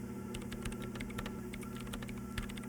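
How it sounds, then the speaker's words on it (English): Steady typing on a mechanical computer keyboard sitting behind a microphone, with rapid, even clicky keystrokes over a constant low electrical hum and no voices. "Gotta love those mechanical keyboards."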